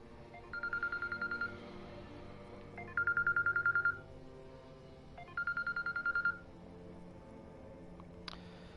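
An incoming call rings on a phone in three separate bursts of rapid, repeated electronic trilling tones, each about a second long with short pauses between. It is fairly clear and has no talking over it.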